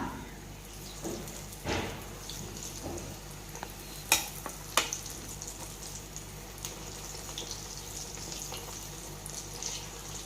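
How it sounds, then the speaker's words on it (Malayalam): Ripe plantain fries quietly in a pan over a low flame, with a soft continuous sizzle and a few sharp clinks of stirring or utensils. No speech is heard. "ഫുൾ ടൈം ലോ ഫ്ലെയിമിൽ തന്നെ വെച്ച് കൊടുക്കുക എന്നിട്ട് നല്ല കളറായിട്ട് വരുന്നത് വരെ ഫ്രൈ ചെയ്യാം"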